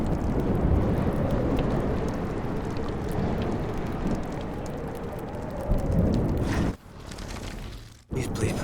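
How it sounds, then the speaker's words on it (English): A thunderstorm with heavy rain in the video game Life is Strange makes a dense, loud roar of rainfall and low rumbling, with a sudden dip and quick break near the end before the downpour surges back. "Storms."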